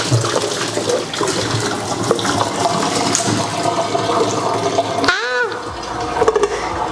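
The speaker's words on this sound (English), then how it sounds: "I'm gonna turn the heat down low and then drain them in the sink." Cooked sausages and their liquid pour out into a kitchen sink in a loud, steady rush of water that cuts off abruptly, leaving a brief gurgle and drip as the sink drains.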